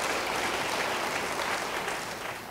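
Church congregation applauding during an Indonesian sermon, a steady, dense wash of clapping that fills the whole clip, loud and close, easing slightly at the end.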